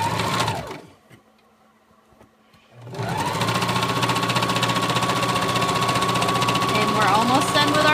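A sewing machine zigzag-stitches fabric for a peasant-style dress. It whirs briefly, pauses into near quiet for about two seconds, then runs loud and steady with a rapid needle rhythm to the end.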